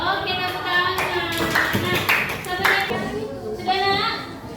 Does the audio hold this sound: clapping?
yes